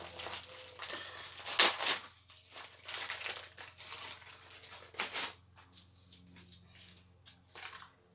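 Wrapping is torn and crumpled off a spring gift package in irregular bursts of crinkling paper, close by and quiet, with no one speaking.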